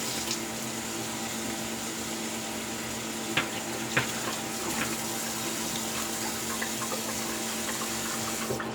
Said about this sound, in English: Cold water going.